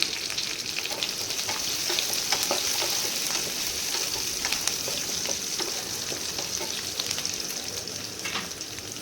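Onion and curry leaves sizzle and fry steadily in a pan for a ridge gourd chutney, a dense continuous crackle with scattered sharper pops and light stirring, close and fairly loud, no talking.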